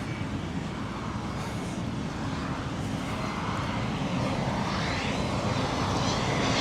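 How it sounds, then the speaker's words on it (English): A fixed-wing airplane passes low overhead on its approach to land near a beach in Larnaca, a broad continuous engine roar that swells gradually louder toward the end, with no talk. "Planes are coming in thick and fast."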